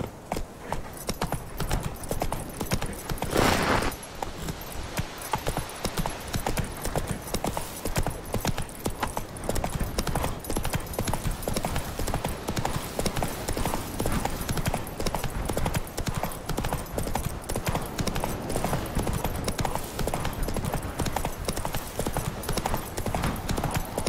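Roach, a horse in a video game, gallops with fast, steady hoof clip-clops that run nonstop and close for the whole stretch, with a brief burst of noise early on.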